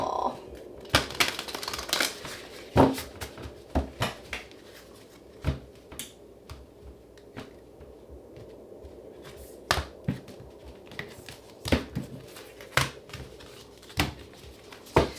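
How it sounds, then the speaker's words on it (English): Tarot cards are shuffled by hand in a quiet room, giving a run of close, irregular slaps and riffles spread across the stretch. "let's get one final shuffle."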